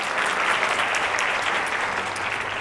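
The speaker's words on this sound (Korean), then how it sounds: "불러주신 성우성아님께 다시 한번 큰 박수 부탁드립니다." A wedding crowd applauds a singer at the end of a song, the dense and even clapping holding at full strength from start to finish.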